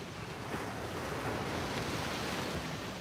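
Ocean waves wash onto a shore while wind blows hard against the microphone, a steady, dense roar that fills the whole stretch with no voices over it.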